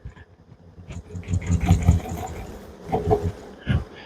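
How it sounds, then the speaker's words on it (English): Honey bees at a farm apiary buzz in swelling bursts as they are shaken into a box, the loud, close drone rising and falling alone with a few dull knocks. "we are just going to shake these bees"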